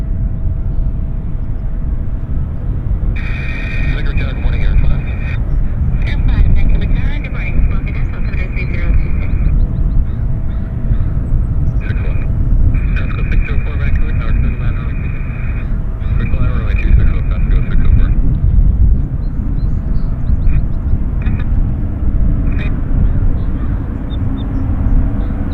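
An airplane taxis at Vancouver Airport toward the gates, a steady low engine rumble with a whining tone that comes and goes, fairly close, with faint talk over it.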